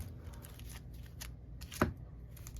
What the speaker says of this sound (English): Shuffle back into the deck